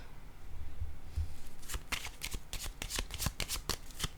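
A deck of tarot cards is shuffled close by, with a quick run of crisp riffling flutters and snaps following a few soft handling taps, and no speech.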